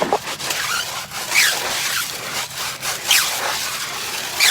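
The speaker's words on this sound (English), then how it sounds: "Reach in, grab that fat heavy bristle brush. A lot more foam activation now going on." A fat, heavy-bristle brush scrubs a foamed Cooper sport tire during an exterior car detail, producing close, loud, rhythmic rasping strokes that come in repeated bursts.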